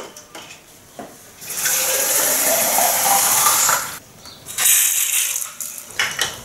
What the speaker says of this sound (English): the pump in, and pump out all the water until the bottle's empty again